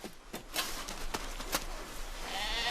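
A few faint sheep bleats over quiet wind noise in snowy weather, brief and somewhat distant, with no voices.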